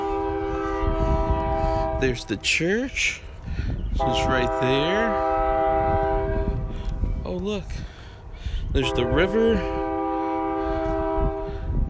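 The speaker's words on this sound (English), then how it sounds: "And apparently there's a train." A train rolls past near a river and church, sounding its horn in several long, loud blasts over steady rumbling, while people talk throughout.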